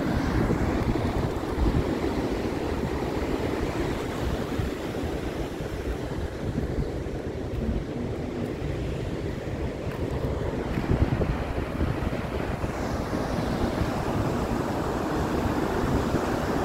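Atlantic Ocean surf breaking on a beach in northern Portugal, with constant roaring waves and gusting wind buffeting the microphone, broad and steady for the whole stretch, no voices.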